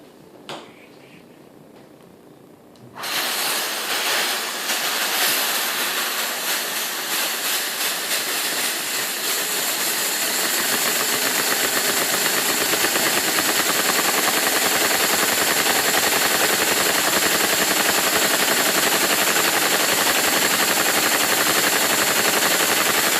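Lego vacuum V-twin engine with a big flywheel starting up after a quiet moment, then a loud, dense, rapid clattering that holds steady and grows slightly fuller as it runs, with no talking.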